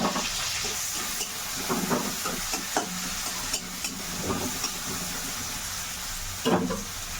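Onions and green chilies sizzle in a pan after spices are tempered for an Odisha-style dried fish mustard curry, a steady close hiss of frying with occasional stirring scrapes and clinks.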